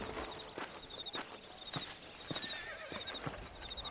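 A horse in Red Dead Redemption, whinnying near the start while hooves clip-clop in an irregular walking rhythm, fairly quiet and close, with no talking over it.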